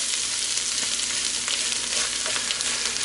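Vegetables smeared with tomato paste brown in a pan for sauerbraten, giving a steady, close hiss of sizzling that runs unbroken throughout, with no voices.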